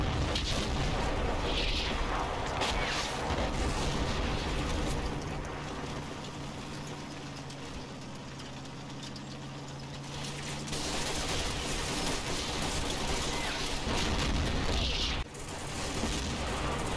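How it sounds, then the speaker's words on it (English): Artillery shells fall and explode in a war video game, a steady dense rumble of distant blasts with a few sharper booms standing out near the start and end. "utilise the smoke from the falling artillery"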